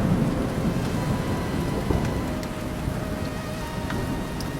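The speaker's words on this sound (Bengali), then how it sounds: "বৃষ্টির কোনো বিরাম নেই।" Heavy rain pours down steadily and loudly, a dense unbroken roar with low rumbling that may be distant thunder, and no voices.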